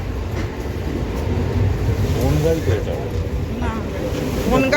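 A train rumbles at a busy station platform, a loud low mechanical drone with clanking, while several people talk nearby throughout.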